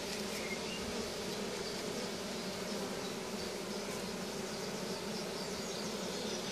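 Honey bees swarm around a beekeeper working at an open hive, making a dense, continuous, even buzz that fills the whole stretch with no speech.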